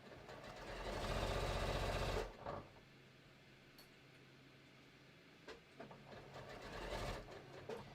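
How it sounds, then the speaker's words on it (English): A sewing machine stitches a shorts hem at a 5/8-inch seam allowance: one loud, steady run of about a second and a half, then quiet with faint handling and shuffling noises nearby. "sewing at 5/8 will make sure I catch everything and be pretty close to the edge of my hem too"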